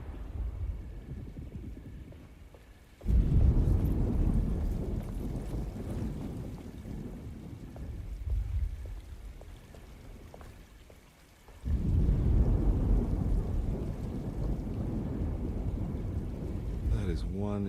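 Thunderstorm in the game Alone in the Dark: a steady wash of heavy rain with deep rumbling thunder that swells loudly twice, briefly dropping back to softer rainfall between the surges.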